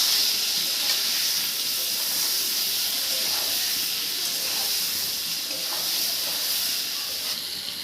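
Pointed gourd frying in hot oil with salt and turmeric, giving a steady bright sizzle and hiss that holds evenly throughout at close range, with no voices over it.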